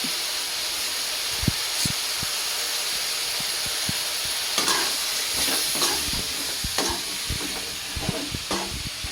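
Tamarind and curry leaves frying in hot oil in a pan, a continuous hissing sizzle punctuated by irregular sharp pops and spoon clicks.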